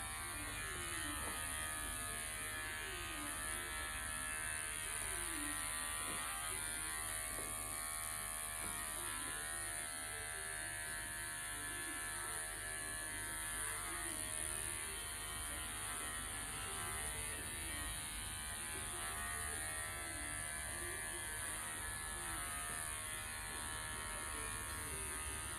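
Hair clippers run against the grain at the neckline during a zero-guard gents cut, a continuous close electric buzz with a steady hum that stays unbroken throughout.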